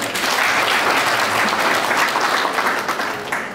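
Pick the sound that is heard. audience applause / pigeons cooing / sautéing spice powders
audience applause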